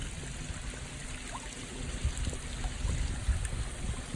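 A small waterfall at a resort pool under construction trickles and splashes softly beside the seating area, a quiet steady flow with some low thumps and faint rumbling in the background.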